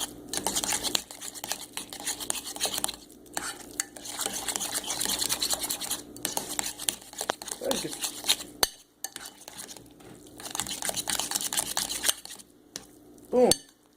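Ramen noodles are stirred to mix in the seasoning, with a utensil scraping and clinking against the bowl in busy close-up strokes, pausing briefly a few times, plus a couple of sharper knocks near the end.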